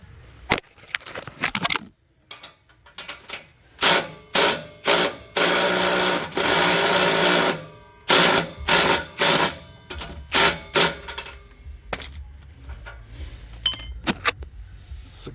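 A 14 mm wrench working a bolt on the exhaust system of a 2013-2018 Ram 2500/3500 truck gives bursts of rapid ratcheting clicks in uneven runs, close and loud, with quieter metallic taps between them.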